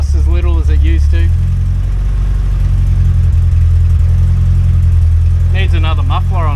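A Toyota Hilux pickup's newly installed engine runs steadily with a loud, deep, continuous hum close by, sounding under-muffled, while people talk briefly at the start and again near the end.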